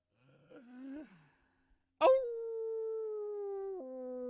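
A man imitates a coyote howl: a short rising, wavering vocal call, then a brief pause and a long, sustained, loud howl that drops in pitch near the end.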